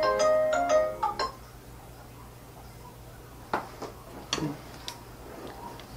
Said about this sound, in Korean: 중요한 전화 받아세요